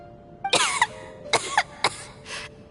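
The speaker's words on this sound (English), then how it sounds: "How long have you had that cough" Someone coughs in a handful of sharp, close bursts, spaced over about two seconds, with a faint tonal background.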